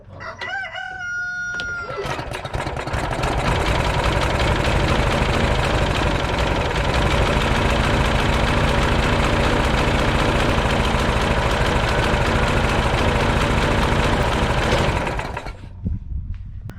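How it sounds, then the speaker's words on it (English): A Troy-Bilt mulching lawn mower engine catches abruptly after a rooster crows, then runs at a loud, steady, close-up drone for about thirteen seconds before cutting off. "I didn't even give it a full pull and it started right up."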